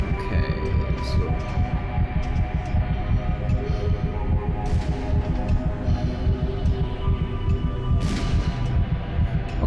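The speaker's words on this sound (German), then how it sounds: "Ne, der Herzschlag ist immer noch gleich da." A heartbeat effect from the horror game Call of Cthulhu: Dark Corners of the Earth throbs as steady, heavy low pulses through the whole stretch, layered over a droning ambient hum.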